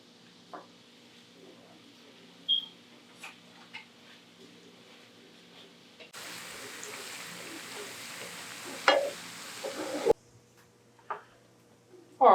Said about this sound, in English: just giving the pasta a quick stir here, making sure it's not sticking